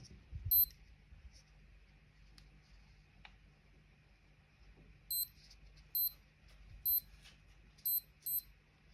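Short high electronic beeps from a Skmei 1167 digital watch alarm come in small bursts: one early, then a run of paired beeps near the end, over a quiet low hum.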